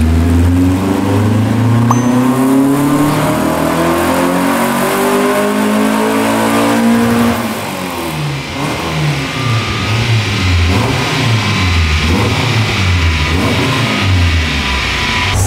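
A naturally aspirated 2.0 VW Gol engine revs hard on a dynamometer, loud and close, climbing steadily before settling into repeated surging rev swings, with no voices.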